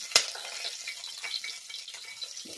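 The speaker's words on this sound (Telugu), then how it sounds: "అవి చీటపట్ట అంటున్నప్పుడు ఫస్ట్ ఆనియన్స్, నెక్స్ట్ పచ్చిమిరపకాయలు" Mustard seeds, onions and green chillies fry in a pan with a continuous crackling sizzle and small popping spatters, close and fairly loud, with a sharp clink near the start and a soft stirring scrape at the end.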